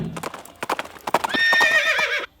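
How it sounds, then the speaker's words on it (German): A four-horse carriage clatters along with steady, hollow hoof clip-clops, close and clear, and then a horse lets out a long, wavering neigh over the hoofbeats before everything cuts off. "Die Kutsche wurde damals von 4 Pferden gezogen und von einem Kutscher gelenkt"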